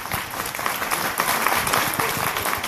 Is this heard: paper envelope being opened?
no